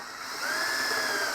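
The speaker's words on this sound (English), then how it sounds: "So I'm just going to pre-drill some screw holes." A power drill whines steadily and up close as it pre-drills screw holes in a homemade Cessna 172 cockpit lower panel, rising in pitch once it spins up and then holding the tone.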